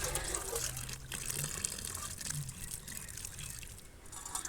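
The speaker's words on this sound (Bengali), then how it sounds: "সবজিগুলো কেটে এখানে আর কি ধুয়ে নিচ্ছি" Cut vegetables are washed by hand in water, giving a close, continuous sloshing and trickling with small splashes throughout.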